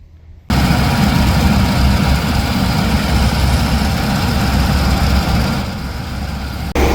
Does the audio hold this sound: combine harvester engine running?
yes